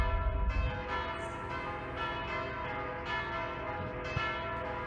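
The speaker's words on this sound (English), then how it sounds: "Those bells are very loud." Church bells ringing at noon in the video game Mon Bazou, a loud, sustained peal of overlapping bell tones with repeated strikes ringing on without any talking.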